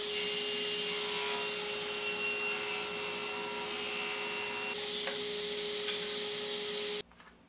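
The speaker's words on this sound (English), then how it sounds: "now I can cut a slot in the 2x4" Saw blade cutting a 1-inch-deep slot in a 2x4 board: a loud, steady whining rasp of wood being cut for about seven seconds that stops abruptly, leaving faint handling noise.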